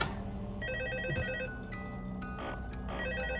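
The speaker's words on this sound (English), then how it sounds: "let me just answer the phone again now." A telephone rings in the video game Five Nights at Freddy's 2, a steady electronic ringtone with repeated bursts, loud and clear over a dense background of game sounds.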